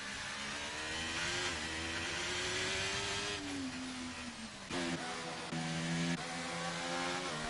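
Race cars in a racing video game at Hungary, a loud continuous engine drone that climbs and falls in pitch through gear changes, with several cars overlapping, close and without talk.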